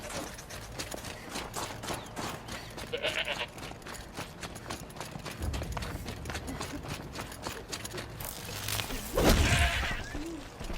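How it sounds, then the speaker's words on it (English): A sheep bleats in Horizon Zero Dawn: The Frozen Wilds over a busy game background of clopping hooves and steady rhythmic ticks; no talking is heard. "Oh, another sheep."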